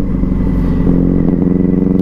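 A motorcycle with a sticking clutch, its engine running close and loud in a steady low thrum that turns into a faster, rhythmic chugging pulse partway through.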